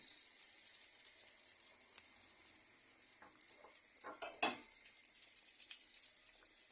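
Dried mint and salt hit hot oil in a pan, a faint airy sizzle hissing throughout with a brief louder crackling burst near the end, quiet and close with no voices.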